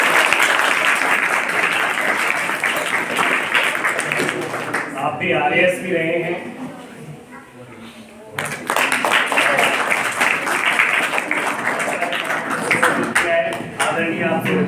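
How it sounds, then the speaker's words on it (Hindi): Audience of students and staff applauding to welcome guests at a school career day, dense clapping at the start, a pause where someone speaks, then loud sustained applause again. "अच्छे ताली बजाकर एक बार स्वागत।"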